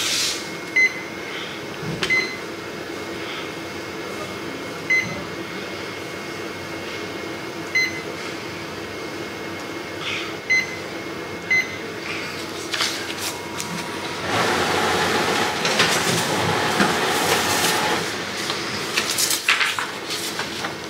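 A RISO ComColor FW5230 book and magazine printer runs a sample print with a steady mechanical hum, soft clicks and ticks, then a louder whirring rush of paper feeding near the end.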